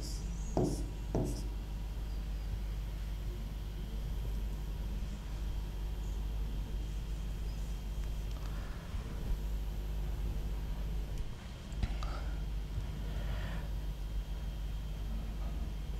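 Pen or marker writing on a surface while a circuit diagram is redrawn, giving soft scratchy strokes and a few sharper taps over a steady background hum.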